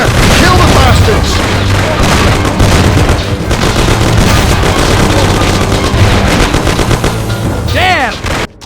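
Heavy gunfire and booming explosions in the 2002 video game Mafia: The City of Lost Heaven, a dense, loud, continuous barrage of automatic shots and blasts with shouting voices mixed in, fading sharply at the end.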